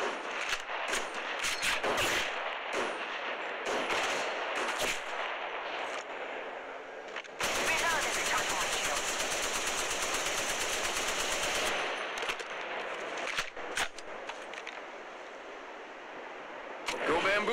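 Rapid automatic gunfire from the mobile battle royale game Apex Legends Mobile, loud and near, with dense bursts and a sustained stretch of continuous shooting in the middle.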